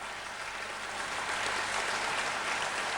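A theatre audience applauds a play by Bouravski during the intermission, a dense and steady wash of clapping from many hands that holds at an even level throughout.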